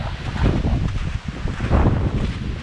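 Strong gusts batter the exposed summit of Mount Isolation, a loud, roaring buffet of wind that pounds the microphone in surges and barely lets up, with no talking.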